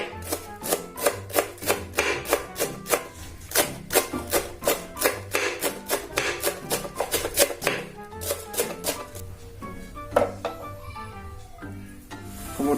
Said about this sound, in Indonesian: potong-potong dulu daun bawangnya.